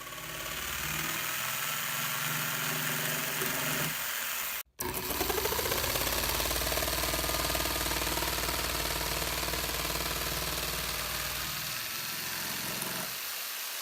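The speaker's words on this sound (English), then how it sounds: "Cut out the 4 corners you marked with your saw." A power saw cuts the corners out of a DIY light table, giving a steady buzzing whine close by. It stops briefly partway through, then runs on in one long continuous pass.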